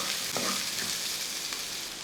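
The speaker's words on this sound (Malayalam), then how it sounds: "നല്ലപോലെ ഒന്ന് ഇളക്കി കൊടുക്കുക." Pieces of yam (chena) fry in oil and are stirred in a pan, giving a steady close sizzle with soft scraping movements, no voices over it.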